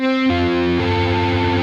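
A distorted electric guitar rolls through an arpeggio, its notes ringing into one another so they blur together like a held chord.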